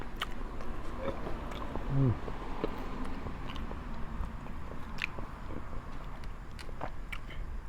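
A man eating ripe durian flesh, chewing and biting close to the microphone with soft, repeated wet mouth sounds against steady outdoor background noise.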